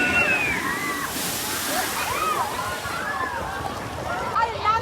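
Water sloshes and splashes at a Cedar Point water ride, a continuous rushing churn heard from nearby with crowd noise and chirpy high voices mixed in over the top.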